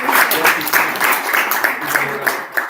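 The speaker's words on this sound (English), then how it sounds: "Can we clap for you?" Audience clapping at a talk or conference session, a dense, steady patter of many hands filling the whole stretch at close range, with no clear voice over it.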